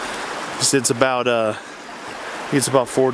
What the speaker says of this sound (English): the little creek is rolling pretty good